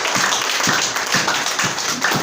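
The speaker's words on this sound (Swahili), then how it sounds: "Tumshukuru Bwana kwa makofi." A church congregation claps together in steady, rhythmic beats, about two claps per second, loud and close, with no voices over it.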